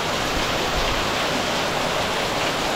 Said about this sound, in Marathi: हा आंघोळ करता करता पाऊस आलाय मस्त.